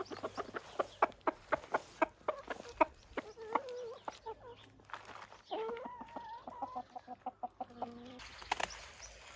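Backyard chickens in a permaculture vegetable garden cluck steadily and close by in quick, repeated bursts with a few drawn-out squawks, over a low background hum.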